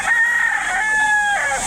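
A rooster at a chicken market in Lipa, Batangas, crows close by in one drawn-out, strained call over steady background noise.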